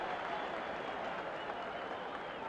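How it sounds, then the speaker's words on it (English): A boxing arena crowd roars steadily during a heavyweight bout, a dense, continuous wash of cheering that holds at full volume from start to finish, with no pauses or individual voices standing out. "Well, you can hear that tremendous roar in the background."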